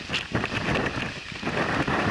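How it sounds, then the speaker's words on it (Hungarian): Wind gusts across a rocky mountain ridge near the Fortica fortress above Omiš, Croatia, buffeting the microphone in loud, uneven rushes with no talk. "A szél továbbra is fúj,"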